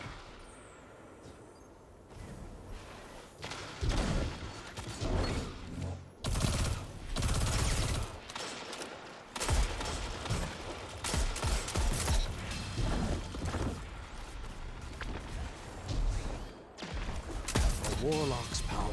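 Rapid video-game gunfire from a Mida Multi-Tool scout rifle and Mini Tool SMG, with dense bursts of repeated shots and impacts through most of the stretch, loud and close, over continuous game effects.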